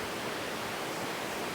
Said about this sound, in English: we're approaching waterfall number 5 here at El Tigre